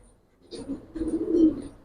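A male Giribaz pigeon gives a single close, rolling coo that swells and fades over about a second, alone in quiet surroundings.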